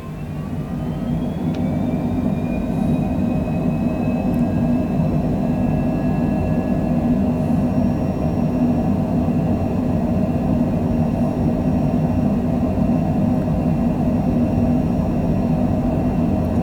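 A fixed-wing airliner's engines at takeoff power during the takeoff roll roar loud and steady from a cockpit position, a constant heavy rumble with a high tonal whine rising early and holding throughout.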